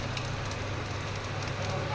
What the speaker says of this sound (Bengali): গোটা গরম মশলা ফোড়ন দেওয়া হচ্ছে, তেজপাতা